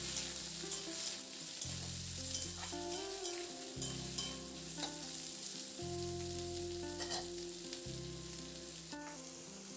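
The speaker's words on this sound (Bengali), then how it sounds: "এবার আলুটা দিয়ে খুব ভালো করে নাড়াচাড়া করে আলুটাকে ভেজে নেব।" Potatoes and onion fry in a pan with a constant close sizzle, while repeated stirring strokes scrape and clatter in a steady rhythm throughout, with no voices.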